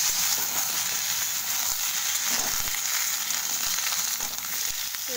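Chopped bottle gourd sizzles loudly in hot oil with tempering spices for a mixed-fish curry, a dense continuous frying crackle with no voices.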